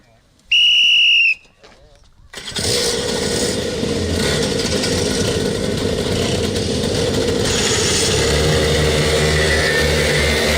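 A loud, steady referee's whistle blast at the start of a DRS125 kart qualifying session at Little Rissington airfield circuit, followed by a brief pause and then a dense roar of many kart engines.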